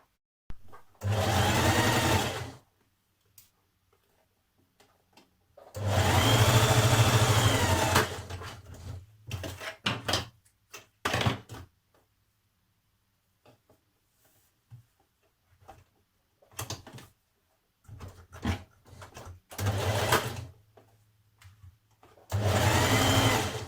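A sewing machine stitches the shoulder seam of a jersey top (Burda 6056) at a 1.5 cm seam allowance, running in several steady bursts of varying length separated by quiet pauses, close and fairly loud.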